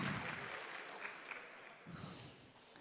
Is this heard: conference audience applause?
yes